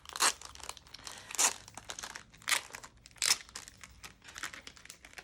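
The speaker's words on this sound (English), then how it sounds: "So we'll open it up and have a look at it." Chaco transfer paper packet being opened, a run of close crinkling and crackling bursts of plastic wrapping, several sharp loud peaks with quieter rustles between and no talking.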